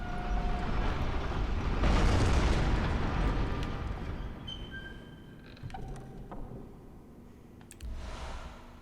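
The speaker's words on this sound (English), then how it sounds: "Church cannon." A church cannon in the video game Bloodborne fires with a heavy booming blast that rolls and rumbles for several seconds, followed by quieter clanks and debris, then a smaller second burst near the end.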